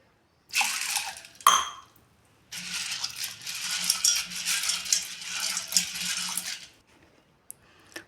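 A brief clatter, then a steady rush of water pouring into a bowl for several seconds, close up, ending in a faint clink.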